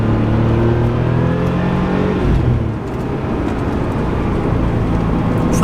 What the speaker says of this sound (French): C'est un moteur qui est très doux et en fait qui se révèle complètement au-dessus de 4000 tours minute.